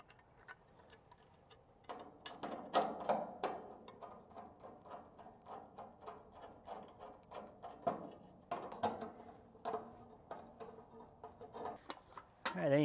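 Faint tool clicks and clunks while screws are tightened on a Grilla Grills Primate griddle during assembly, irregular ticks and taps close by with a voice talking over them.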